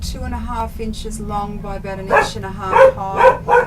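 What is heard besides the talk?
dog barking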